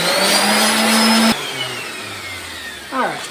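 A power sander works over camp trailer parts, a steady loud whirring hum that drops in pitch partway through as the motor spins down, then revs briefly again near the end, close up without talk.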